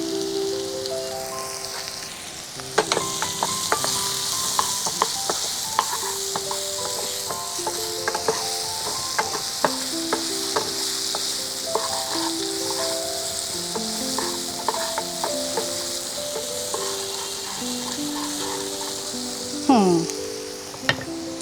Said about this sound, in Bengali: ভাবলাম যে এই মাছগুলোই এখানে দিয়ে দিই, একটু নুন দিয়ে দিই আর তার সঙ্গে একটু হলুদ।